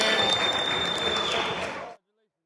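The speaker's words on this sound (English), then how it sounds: "Everyone clap it up for Damo, first pick in this Clash Pro Leagu" Audience applause for a first-round pick at a Clash Pro League draft, dense steady clapping that cuts off abruptly after about two seconds, with some voices mixed in.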